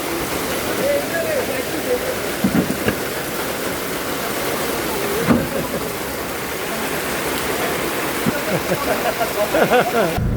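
Heavy rain pours down continuously during a cloudburst, a dense loud roar of water with a few brief voices and small sounds under it.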